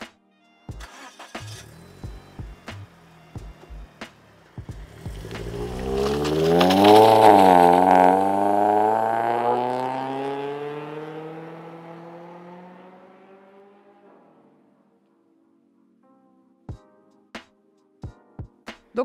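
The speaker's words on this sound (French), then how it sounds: "je vais demander à Man in Bike de partir avec sa voiture" A car starts up and pulls away, its engine note rising as it accelerates, then fading into the distance, with sharp clicks and knocks before and after.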